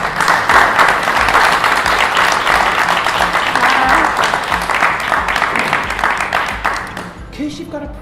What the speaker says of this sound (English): should we give our family a big round of applause?